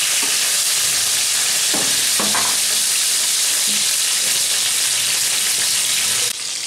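Bhagon fish frying in hot oil makes a loud, continuous crackling sizzle up close, with a few soft clinks of utensils partway through, then the hiss shifts abruptly near the end; no voices.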